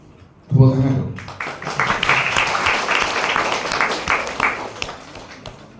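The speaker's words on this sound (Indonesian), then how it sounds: "Tepuk tangan dong." A workshop audience bursts into applause after a brief spoken call, producing a dense, steady patter of many hands clapping. The clapping stays close and even for several seconds before tapering off.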